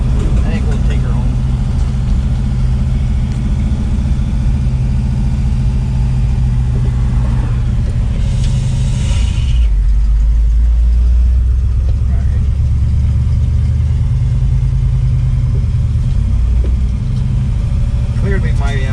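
A 1961 Pontiac Laurentian with a four-speed being driven, a loud steady engine drone with cabin rumble that shifts in pitch midway as the car changes speed, with someone talking over it.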